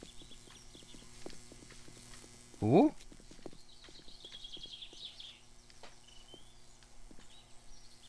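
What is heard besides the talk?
zombie footsteps in the video game 7 Days to Die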